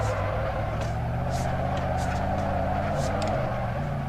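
Dodge Charger drifting in Assetto Corsa, a continuous droning engine note with shifting pitch and intermittent tire squeal, loud and close.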